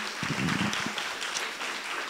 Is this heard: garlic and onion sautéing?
no